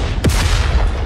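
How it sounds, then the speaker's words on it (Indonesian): A single deep boom bursts out low and loud, its rumble sweeping downward and fading across about a second, like a heavy blast effect in a martial fantasy battle scene. "Ledakan beruntun segera terjadi."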